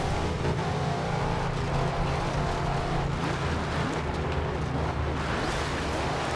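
A car engine revs hard in Forza Horizon 2, producing a loud, continuous close roar with rising and falling pitch as the car drives and turns.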